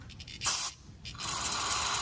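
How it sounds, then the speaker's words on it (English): Spray cleaner being aimed into the carburetor of a Honda EU2200i/EU2000i inverter generator: soft hissing aerosol bursts, two short sprays and then a longer steady one, quiet and close, with no talk. "So you're just gonna wanna spray all in here and go ahead and give it a spray."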